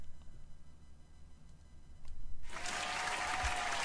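Applause from a live wrestling-show crowd swells suddenly after a quiet stretch of background murmur and continues steadily as a dense wash of clapping.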